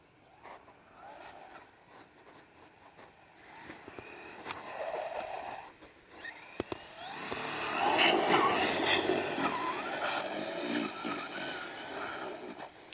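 A JLB 21101 RC car on a hot-day high-speed run builds from a faint, intermittent motor whine into a loud, sustained, broadband rush as it pulls a wheelie, with no talk over it.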